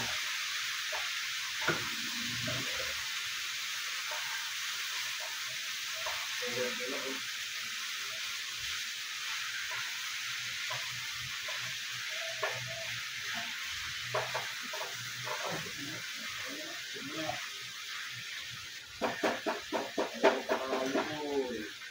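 Canned ground meat (giniling) fries in a pan with a continuous bright sizzle and occasional stirring scrapes, turning to a louder burst of clattering near the end.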